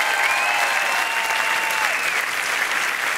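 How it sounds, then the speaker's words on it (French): Studio audience on the Taratata music show applauds a singer, a dense, steady wash of clapping that holds loud and close for the whole stretch, with a couple of faint sustained whistles riding over it and no talk. "Ouais, vous pouvez l'applaudir."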